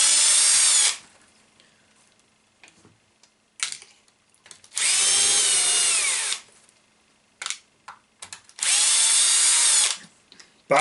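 Power drill running in three long bursts of a couple of seconds each, backing out the four top screws of a cell unit while unboxing a gift, with short clicks and handling sounds in the pauses between runs.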